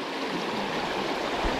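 River water rushing steadily past near a waterfall, a constant close broadband stream with no voices.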